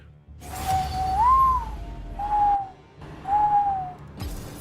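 A person whistles an imitation of a mourning dove call: three drawn-out, cooing whistled notes, the first with a rising swell, each separated by short pauses, close and clear over faint room noise.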